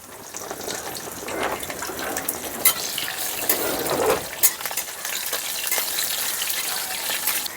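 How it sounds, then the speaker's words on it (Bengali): Green chilies sizzle in hot oil in a pan while cooking a Bengali vegetarian pui shak stalk chorchori, a steady close crackling hiss with small pops and stirring scrapes, no talking. "কাঁচা লঙ্কাটাও হালকা ভাজা হয়ে গেছে"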